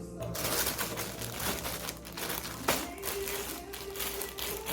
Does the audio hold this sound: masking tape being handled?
yes